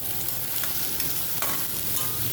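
Chopped onion and curry leaves fry in hot oil in a spicy ambadi sukat dish, giving a dense, even sizzle. The crackle is close and continuous, with faint stirring scrapes and no voices.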